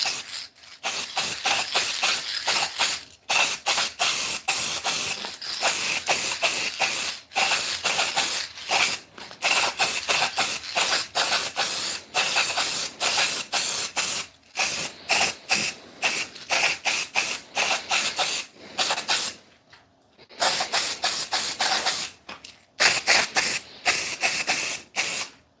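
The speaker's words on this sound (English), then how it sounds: "now let's spray paint this" Repeated bursts of aerosol 3D scanning spray hissing onto a part, close by, each lasting a second or two with brief pauses between them, a few longer sprays toward the end.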